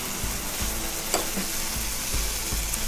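Ragi uttapam batter poured onto a hot pan sizzles and crackles steadily up close, with faint soft scraping sounds now and then.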